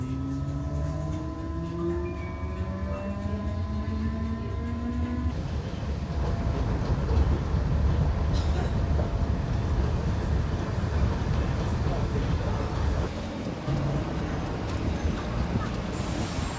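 A train rumbles steadily with rhythmic rail clatter, and sustained horn-like tones sound in the first few seconds before giving way to broadband rolling noise.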